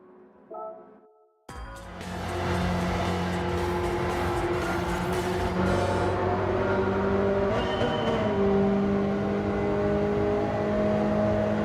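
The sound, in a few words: race car engine in video game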